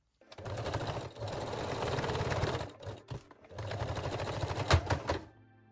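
A sewing machine runs a small zigzag stitch to attach rings on a lace bralette, whirring in two steady bursts with a short pause and a few clicks between them, close and moderately loud.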